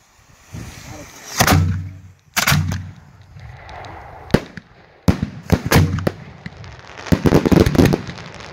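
Three 4-inch aerial firework shells burst at a distance, each a loud booming crack followed by rumbling echoes and crackle, with additional smaller pops scattered between the main reports.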